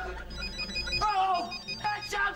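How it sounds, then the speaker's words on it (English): A short electronic ringtone chirps and warbles briefly, faintly mixed with a voice and background noise. "It's not a fire alarm, it's just my cell phone!"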